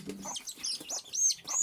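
Young desi chicken chicks on a farm peep in quick, high, thin chirps, several in a row, near and fairly clear with no voices.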